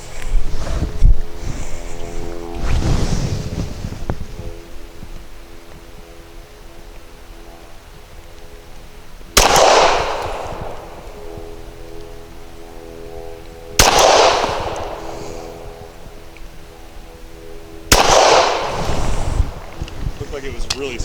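CZ P-10C pistol firing PPU 158 grain subsonic rounds outdoors: three sharp, fairly loud shots spaced several seconds apart, with a speaking voice and wind noise in the gaps between them.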